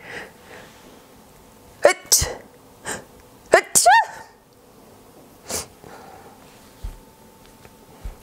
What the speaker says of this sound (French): Ah, je suis désolée, je vais éternuer.